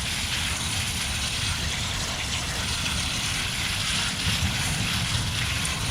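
Cold water gushing steadily outdoors over a tie-dye shirt being rinsed, a continuous loud splashing rush with no talking.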